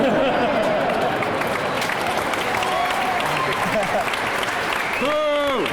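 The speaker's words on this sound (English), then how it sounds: "More applause than laughs, to be fair." A theatre audience at a stand-up comedy show in St David's Hall, Cardiff, applauds in a loud, continuous roar of clapping, and a voice speaks over it near the end.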